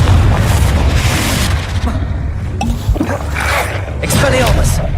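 A deep magical explosion booms from the Confringo fire spell in Hogwarts Legacy on PS4 Pro, followed by crackling bursts and impacts. Loud and close, with other combat effects mixed in.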